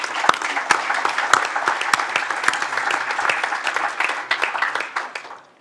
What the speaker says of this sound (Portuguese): uma grande salva de palmas pelo esforço que elas fazem